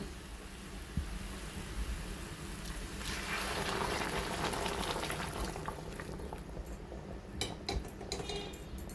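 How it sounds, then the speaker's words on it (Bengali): Hot water goes into a pan of mutton and jackfruit curry, and a rising rush of pouring and bubbling swells in the middle, then settles to a simmer with a few utensil clicks near the end, close and without speech. "এবার দিয়ে দেবো আমি গরম জল।"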